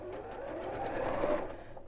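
A domestic sewing machine stitches a zigzag seam in one steady, close, continuous mechanical whirr that runs without a break and swells slightly midway.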